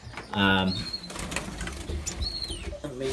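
Pet birds inside a homemade wooden breeding cage with a sliding divider flap their wings in a loud, close burst, followed by softer fluttering and chirps while someone talks.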